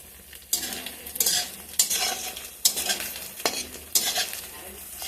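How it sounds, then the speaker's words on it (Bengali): Paneer kofta fritters fry in hot oil in a pan, giving a steady sizzle broken by four sharp stirring and scraping strokes at regular intervals, close and fairly quiet with no talk. "ছানার কোপ্তাগুলি সবগুলি বড়া ভেজে নিলাম।"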